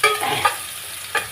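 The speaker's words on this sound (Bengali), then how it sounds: "তারপর দিয়ে দিলাম পেঁয়াজ।" Onion is stirred into a hot pan of oil with black cumin, a close, bright sizzle with a few sharp scraping stirs over a short moment.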